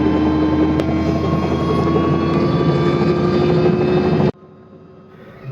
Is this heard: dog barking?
no